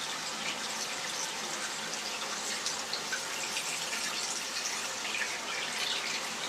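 Water runs steadily from a household tap into a basin as the temperature is adjusted, a constant soft hiss and splash with no talk.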